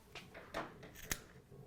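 Scissors clipping into the corner of a fabric vest piece during sewing: a few soft snips, quiet and close, with one sharper cut near the end.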